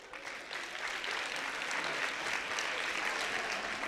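An audience at a school twinning ceremony in Senegal claps continuously, a broad wash of applause that swells slightly in the first second and then holds steady, with no speech over it.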